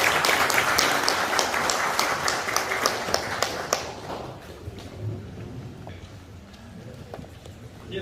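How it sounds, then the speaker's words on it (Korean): A large audience at a provincial governor's press briefing claps loudly in a dense burst of applause that gradually thins and fades, with scattered claps trailing off and a voice speaking as it dies down. "큰 박수로 모시겠습니다"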